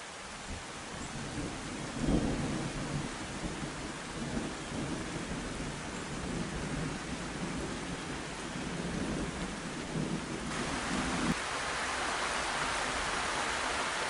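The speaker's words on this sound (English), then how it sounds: "It's going to rain again." Steady heavy rain pours down outdoors at a tent camp in early August, with low rumbles of thunder rolling through at intervals, the downpour constant and close throughout.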